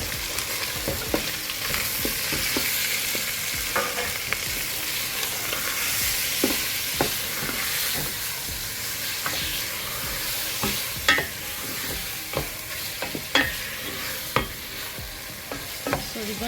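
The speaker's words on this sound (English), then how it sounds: "So we're gonna let our onion to cook" Onion frying in hot oil and being stirred with a spatula for a potato stew, a continuous close sizzle broken by repeated sharp scrapes and taps of the spatula against the pan, with no voices.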